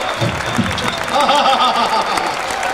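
Audience at a Hindi poetry recital applauding, with scattered clapping and cheering and murmuring voices, some laughter-like sounds mixed into a lively, fairly loud crowd.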